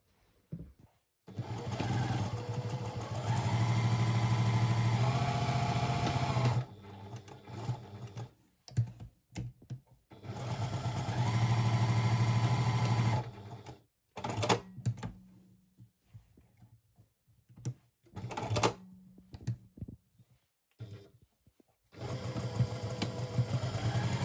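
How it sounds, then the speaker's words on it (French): Sewing machine stitching the sides of a fabric bow tie, running in loud steady bursts of several seconds separated by quiet pauses and small handling clicks. "on va coudre sur les côtés, donc celui-ci, celui-ci"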